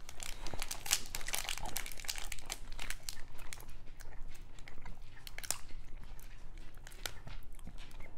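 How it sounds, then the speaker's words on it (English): Football card pack wrappers crinkle and crackle up close in quiet, irregular bursts of crisp plastic rustling, with brief sharp crunches scattered throughout. "I don't know if you guys enjoy these crinkling noises or not."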